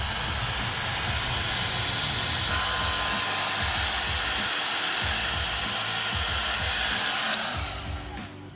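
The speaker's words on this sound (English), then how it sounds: "grab a heat gun or some sort of lighter and get the rubber heated all up" A heat gun blows hot air onto rubber heat-shrink sealing on a GR86/BRZ door pull strap. A steady, loud airy whoosh runs continuously, then trails off near the end.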